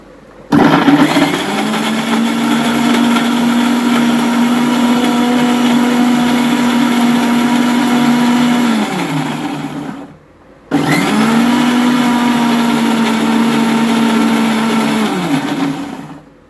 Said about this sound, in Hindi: ओके, अब इसको बंद कर लेंगे और इसको पीस लेंगे।